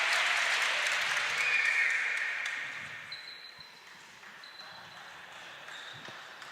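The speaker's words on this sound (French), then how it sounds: "Avec les encouragements du public parisien," A Parisian crowd applauds at a trinquete final between Spain and France, loud dense clapping that gradually thins and fades, with a few faint pings near the end.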